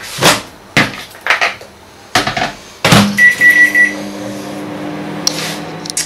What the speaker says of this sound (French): vous le mettez 1 minute 30 à 2 minutes pardon, à 800 watts dans le micro-ondes